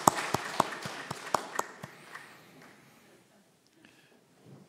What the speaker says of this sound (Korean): 우리 다시 한번 우리 하나님께 감사와 영광의 큰 박수를 올려드리겠습니다.